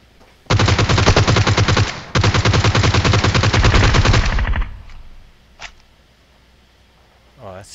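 Long bursts of rapid automatic gunfire in a PUBG Mobile match, loud and close, two sustained volleys with a short break between, then a few isolated faint shots and a voice speaking.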